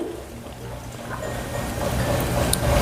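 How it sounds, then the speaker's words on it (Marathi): Bitter water drawn out of salted bitter gourd is poured off, a close, steady trickling pour with faint splashes throughout. "आता हे पाणी फेकून देते"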